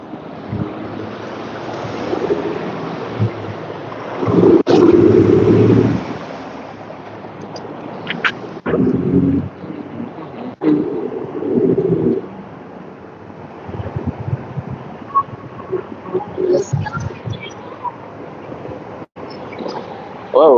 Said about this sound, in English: It's definitely a little windy, more windy today. Very windy.